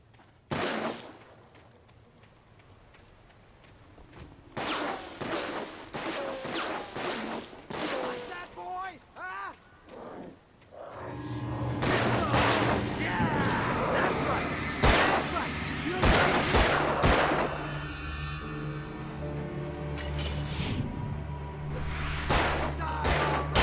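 Gunfire crackles through a night confrontation in the horror action game Alan Wake, a run of sharp loud shots and heavy thuds layered over tense music and ambient rumble, growing denser in the second half.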